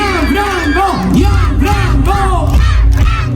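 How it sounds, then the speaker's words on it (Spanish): A live audience at a singing show gives a loud collective shout for a young winner of La Voz Kids, a sustained roar of voices across the whole stretch. "un grito bien fuerte"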